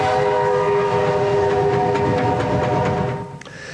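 A steam train arriving at Dorrigo sounds its loud, steady horn or whistle close by over rumbling rail noise and faint clickety-clack, the tone cutting off near the end as the rumble fades.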